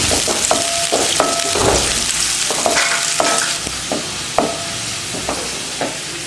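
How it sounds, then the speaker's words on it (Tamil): Onions frying in a pan until brown for a chicken and green peas gravy, a steady close sizzle with repeated spatula scrapes and taps against the pan, no voices. "வெங்காயத்தை நல்லா ப்ரௌனாக வறுத்துக்கலாம்."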